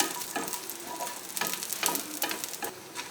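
Red chilies and curry leaves roast in a pan for coconut chutney, a crackling sizzle broken by repeated bursts of spattering and stirring, fairly soft and close, no speech.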